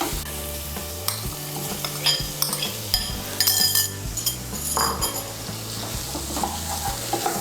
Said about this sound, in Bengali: আলুগুলোকে ভালো করে মশলার সঙ্গে মিশিয়ে নেব